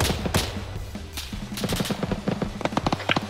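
Gunfire in a combat setting: sharp reports crack out in quick irregular bursts, some clustered rapid volleys, close and loud, with no voices during the shots.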